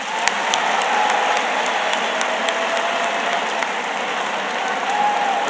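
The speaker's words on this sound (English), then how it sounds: "Please join me in one more round of applause for General Raymond." Sustained audience applause for General John W. Raymond at the close of a talk, a steady wash of many hands clapping at moderate loudness, with a few sharper claps standing out near the start.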